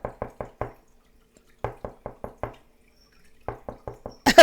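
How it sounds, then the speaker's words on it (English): Knocking on a door in three bursts of four to five quick raps each, separated by pauses, crisp and close, followed by a brief louder clatter at the end. "Jackie's knocking on the door, and Jennifer refuses to open the door"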